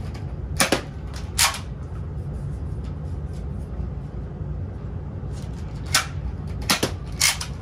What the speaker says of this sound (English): we'll shoot a couple shots with the dart zone